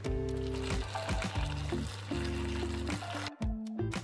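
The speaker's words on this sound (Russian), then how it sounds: "Заливаю капусту горячей водой." Hot water pours steadily into a pot of cabbage on the stove, a continuous close splashing fill that stops abruptly near the end.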